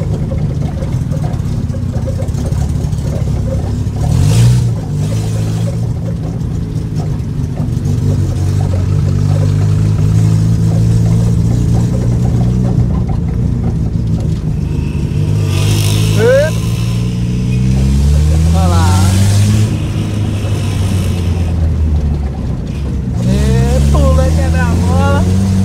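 A Chevrolet Celta engine with a loose exhaust pipe rumbles loudly and steadily, revving up and down several times, while people talk throughout.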